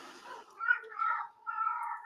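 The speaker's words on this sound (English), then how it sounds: "And there's my cat again." A house cat meows up close in a few drawn-out, whiny calls spread across a couple of seconds, with a faint voice in the background.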